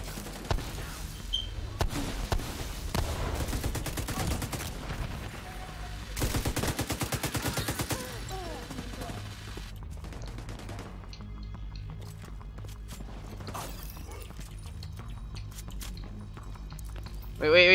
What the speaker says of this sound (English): Oh, they have a turret or something.